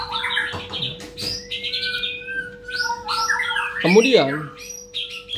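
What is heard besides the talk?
white-rumped shama (murai batu) chirping after sunbathing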